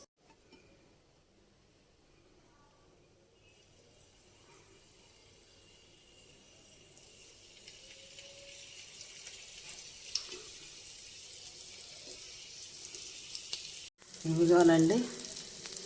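Prawns dipped and coated in Bombay rava (semolina) frying in a pan. A soft hiss builds into a steady sizzle, ending in a louder burst of crackling, with a brief spoken remark.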